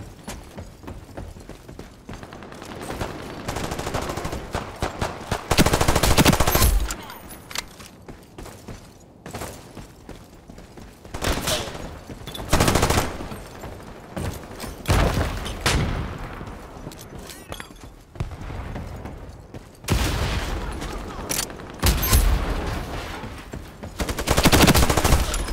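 Bursts of Thompson Tommy Gun fire in the online shooter Ironsight, with several loud rapid automatic volleys and shorter rattling strings spread across the stretch, plus other gunshots in a busy firefight.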